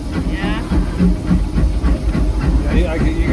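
A Disneyland Railroad steam locomotive chuffs rhythmically as it works harder pulling a heavy load, with steady exhaust beats and hiss heard up close from the cab, alongside voices.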